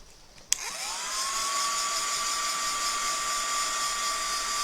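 A heat tool switches on with a click and whirs up to a steady, loud blowing hiss with a high whine, drying paint on a wooden nautical plaque, running continuously once started.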